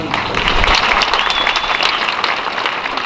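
A crowd at a March for Life rally breaks into sustained applause, dense clapping filling the space steadily and loudly throughout with no pause.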